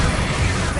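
A Bombarda spell bursts in Hogwarts Legacy with a loud, broad blast of noise that fills a brief moment of combat.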